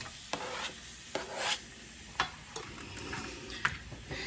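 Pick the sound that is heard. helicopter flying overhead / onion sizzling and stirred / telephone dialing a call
onion sizzling and stirred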